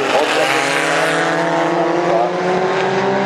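Racing cars roar past at speed during the Goodwood Madgwick Cup, loud rising and falling engine notes with a commentator talking over them.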